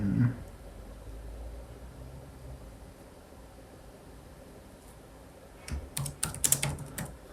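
Keys clatter on a computer keyboard in a short, quick burst of typing near the end, after several seconds of quiet room hiss, with no talk.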